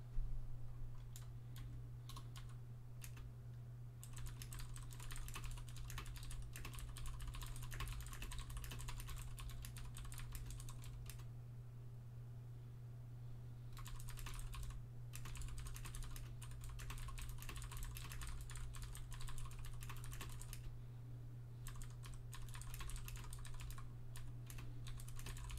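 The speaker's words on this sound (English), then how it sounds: "Let me finish what I was typing real quick." Rapid clicking of keys on a computer keyboard during an online Magic card game draft, typed in bursts with short pauses, steady and close over a low constant hum.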